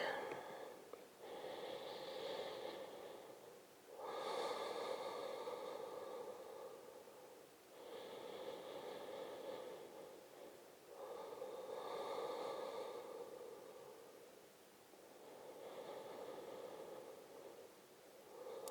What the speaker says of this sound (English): Just taking a few deep breaths, quieting the mind.